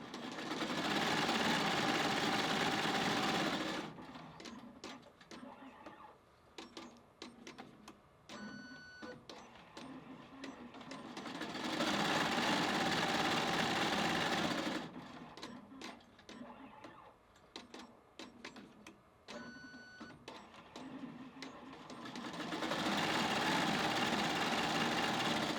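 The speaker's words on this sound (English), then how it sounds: "And then I'm just going to press go. And you'll get to see how fast this puppy goes." A Bernina E16 Pro 16-needle embroidery machine stitches at high speed, a loud, rapid mechanical whirr that runs in long bursts, broken by shorter stretches of ticking and clicking as the machine pauses and shifts between runs.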